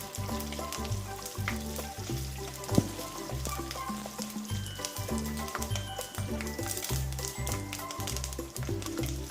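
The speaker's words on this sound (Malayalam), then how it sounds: "പിന്നെ അതിലേക്ക് കുറച്ച് കറിവേപ്പിലയും കൂടെ ഇട്ട് കൊടുക്കാം. അതും കൂടെ ഒന്ന് വഴറ്റിയെടുക്കുക." Curry leaves sautéing in hot oil in a pan for a Kerala-style fish curry, a steady close sizzle and crackle with occasional stirring scrapes running throughout.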